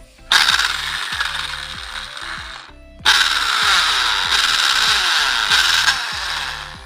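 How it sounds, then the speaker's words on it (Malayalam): A drilling machine boring a hole into a coconut shell, two loud bursts of whirring, grinding drilling with a rapid rattling texture, separated by a short pause. "ഇപ്പോൾ ഞാൻ ഡ്രില്ലിംഗ് മെഷീനാണ് ഇവിടെ യൂസ് ചെയ്യുന്നത്."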